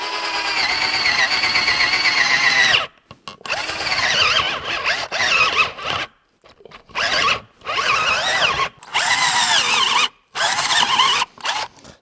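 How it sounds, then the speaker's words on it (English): A cheap, underpowered cordless drill with a spade bit whines and grinds in repeated bursts as it bores, stopping and restarting several times, loud and close. "that is not a nice sound inside of that drill"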